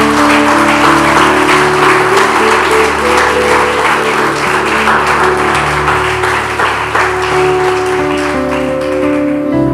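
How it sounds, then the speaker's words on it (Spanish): Congregation applauding during a Spanish-language church service, a steady dense wash of clapping that holds for about ten seconds, with a sustained organ or keyboard chord droning underneath. "Dale un aplauso al Señor."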